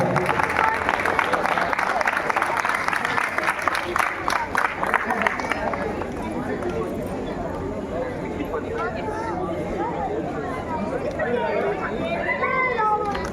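Loud audience applause and cheering at a Ramleela stage performance of the Ramayana, a dense wash of clapping that fills the whole stretch and thins toward the end as crowd chatter rises.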